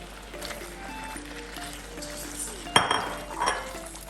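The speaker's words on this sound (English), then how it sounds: "I'm going to go in with the prawns now" Prawns drop into a pan of simmering pineapple prawn curry, with a sharp clink of utensil on metal, soft sizzling and stirring, and a second clatter shortly after against a quiet kitchen background.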